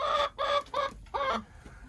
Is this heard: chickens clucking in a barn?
yes